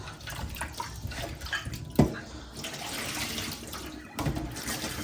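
Potatoes being washed by hand in several changes of water, with swishing and sloshing splashes throughout and a sharper splash near the middle and another toward the end, fairly close.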